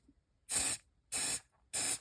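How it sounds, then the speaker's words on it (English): Three short, sharp hisses from a spray can of activator misted onto two-part glue, evenly spaced and close, with silence between bursts. "then you spray it to activate"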